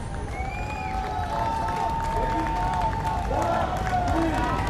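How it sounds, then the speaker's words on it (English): Spectators at the Singapore T100 triathlon cheer and clap a passing athlete, a steady wash of crowd noise with scattered whistles and shouts under a race commentator's voice. "Great to see the crowds already out cheering Sam in."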